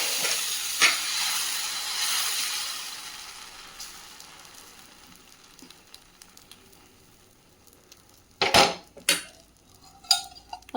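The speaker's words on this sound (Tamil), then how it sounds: "இப்போ அதை நல்லா திருப்பி போட்டு 2 பக்கமும் நல்லா சவுந்து வர அளவுக்கு வறுத்துட்டு இதை எடுத்துக்கலாம்." A dosa made without rice or urad dal sizzles and hisses steadily on a hot pan, the frying fading gradually before a few sharp clinks and scrapes of a utensil against the pan near the end.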